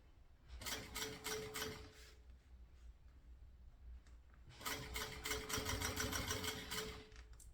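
Sewing machine stitching piping onto a small fabric backpack, two close bursts of fast rhythmic needle chatter with a quiet gap between, the second run longer, heard alone.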